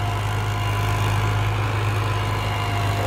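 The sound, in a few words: Balwan 400 tractor engine running in a field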